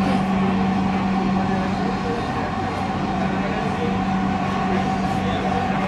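Inside a moving Dhaka metro rail train, a continuous low rumble and hum of the carriage runs steadily with a faint tonal whine, with no clear speech over it.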